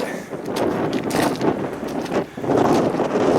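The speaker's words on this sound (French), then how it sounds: "Pas mal de vent" Strong wind buffets the microphone outdoors, a steady rushing roar with gusty swells and no voices.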